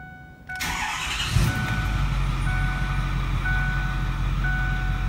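A click, then a 6.4 L Powerstroke diesel pickup truck engine cranks and catches, settling into a steady low idle rumble, with faint beeping tones running over it.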